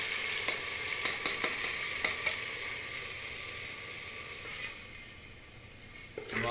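Paste of onion, garlic, ginger and green chili frying in hot oil for lemon cauliflower and potato, a steady close sizzle with soft stirring scrapes and clicks throughout, no talking.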